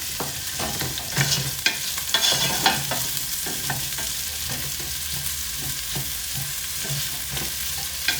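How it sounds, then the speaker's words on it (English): Onions sizzle and fry in beef fat in a pot over medium heat, a steady broadband hiss with intermittent stirring scrapes and clatters, close and alone without talk. "What we want to do with this is fry our onions in this to add a little bit of extra flavor."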